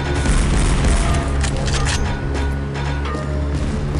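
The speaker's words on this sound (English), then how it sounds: "Whoa! Grenade launcher!" A grenade launcher fires in the SiN video game. Loud, dense booming blasts and rumbling fill the whole stretch without a break, and no one speaks.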